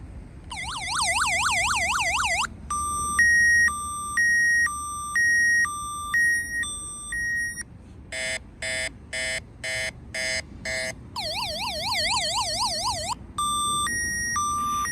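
A Ford truck's security alarm blares through its cycle of patterns: warbling sweeps, steady two-tone beeps, then rapid choppy pulses, before the warble returns. Loud and continuous, with no voices.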